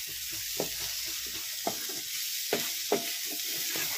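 A spoon scrapes and stirs a papaya halwa mixture with fried fruits through a hot pan, giving a row of sharp knocks roughly every second over a continuous low sizzle, close and clear with no voices.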